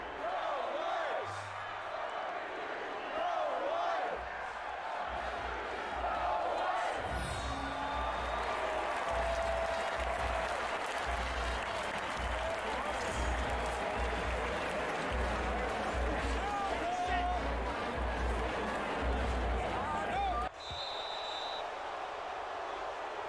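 A stadium crowd in the NCAA Football 22 game, Michigan versus Michigan State, gives a dense continuous roar with swelling cheers under a commentator's voice, with a low rumble running through the middle and a sudden drop near the end.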